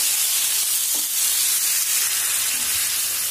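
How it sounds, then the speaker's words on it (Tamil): Chopped tomatoes sauté in hot oil in a pan for a South Indian tomato gravy, giving a steady, close sizzling hiss with faint stirring scrapes throughout. "சேர்த்து இதை நல்லா வதக்கிக்கணும்."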